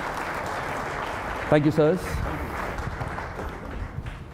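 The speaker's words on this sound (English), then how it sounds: "Can we have a round of applause for these wonderful gentlemen and the big new WagonR?" Audience applause at the Maruti Suzuki WagonR launch event, a steady wash of clapping held under a host's voice that briefly speaks over it.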